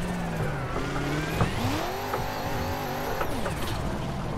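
BMW E92 on a drift run, its engine revving and falling through rising and dropping pitch sweeps while tires squeal steadily, loud and close throughout with no talking.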